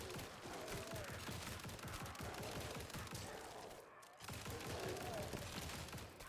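Bouncing bullets pouring out in the survivors-style game Grind Survivors, a rapid, steady stream of gunfire pops that cuts out briefly near the end before resuming, loud and busy throughout.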